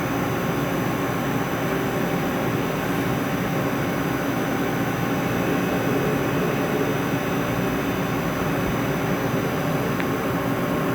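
A Matsuura MC-1000V5 5-axis machining center rotating and tilting while its X and Y axes move: a steady, loud, broadband mechanical whir and hum that holds constant throughout, with no talking.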